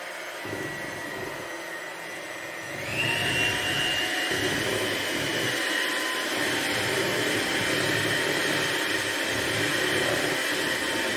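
Electric mixer whirring through red velvet cake batter, a steady loud motor drone that steps up in pitch and volume about three seconds in as the speed rises, then runs continuously to the end.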